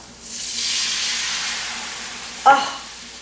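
White wine poured into a pan of softened onions and garlic bursts into a loud, close hiss and sizzle that slowly fades, followed by a brief clatter from stirring near the end.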